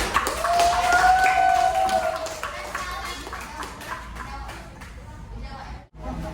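Classroom applause from students in a religious education lesson, clapping with sharp taps mixed with a ringing tone and voices, fading toward the end.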